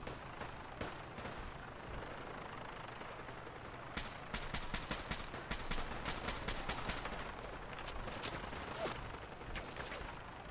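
Gunfire in the video game Fallout 4, with a rapid burst of sharp automatic shots over steady background noise, fairly distant and not very loud, with no talk.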